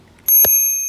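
A Cat Eye bell on a 2021 Trek Marlin 5 mountain bike gives two quick close, bright dings, the second ringing out and sustaining as it fades.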